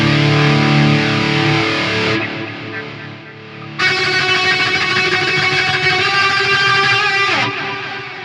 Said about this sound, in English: maybe we go for some distortion instead